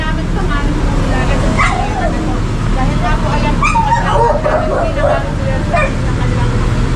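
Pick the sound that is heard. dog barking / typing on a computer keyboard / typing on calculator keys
dog barking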